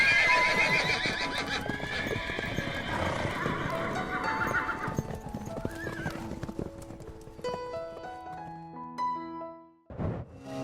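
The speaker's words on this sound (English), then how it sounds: "You are witnessing wild horses being released back into the wild." Released wild horses run off in clattering hoofbeats with loud neighs and whinnies, fairly close, followed by fading calls and a brief burst near the end.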